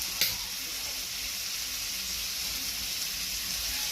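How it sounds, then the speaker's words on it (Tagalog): Shrimp sizzling in a pan for buttered garlic shrimp as a small splash of Sprite is poured in, a steady close hiss with a brief sharp burst near the start. "lagyan na natin ng Sprite. Konting Sprite lang."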